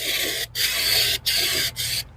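An aerosol spray paint can sputters as it runs empty while painting a car bumper, grill and headlight rings, giving three close hissing bursts separated by brief pauses, with no talk.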